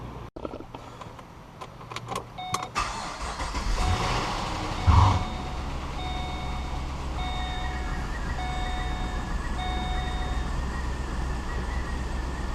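A Pontiac G8 GT, just back together after transmission work, cranks and starts, then settles into a steady idle while repeated electronic chimes beep in the cabin.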